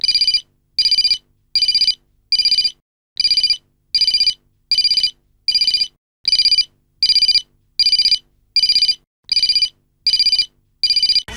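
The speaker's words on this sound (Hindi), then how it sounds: "रिंग बजी जा रही है" A phone rings loudly in steady, evenly spaced electronic bursts, repeating about a dozen times with brief silences between, no voices.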